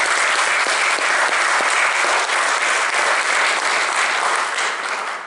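Loud, sustained applause from an audience at an opera house celebration, dense and continuous clapping close up with a few sharp individual claps standing out, tapering slightly at the very end.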